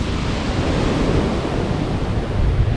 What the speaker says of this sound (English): Wind is really picking up and the waves getting bigger and bigger.